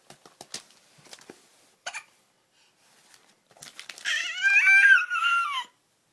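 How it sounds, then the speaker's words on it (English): A baby gives a few small, sharp hiccups with pauses between them, followed by a louder, longer wavering cry or whine, all heard close up indoors. "Got hiccups too."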